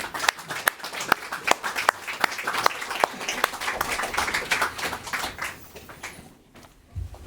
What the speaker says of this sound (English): let's now give a round of applause